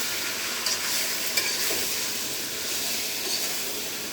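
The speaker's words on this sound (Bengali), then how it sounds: "দেন এটাকে ভালো করে মশলাটাকে মিক্স করে নেড়ে" Spice mix with ground cumin for mango pickle stirred in a hot pan, a dense continuous sizzle and hiss with a few faint scrapes and taps, near and without talk.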